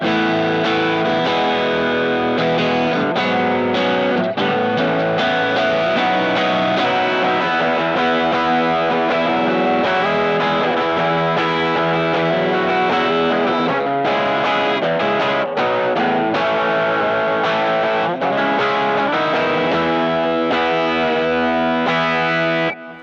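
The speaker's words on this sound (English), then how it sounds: "On this guitar I can also engage a boost" An overdriven electric guitar with a boost engaged plays sustained chords and lead lines with a thick, mid-heavy tone, loud and continuous, no speech.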